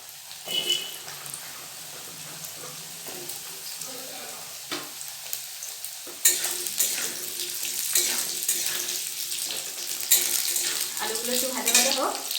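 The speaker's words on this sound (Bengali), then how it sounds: "আলুগুলো একটু ভাজা ভাজা হোক।" Potatoes fry in a pan after a spice tempering, for a pumpkin-leaf dish with mustard and poppy seeds. A crackling sizzle is broken by stirring scrapes and swells much louder halfway through.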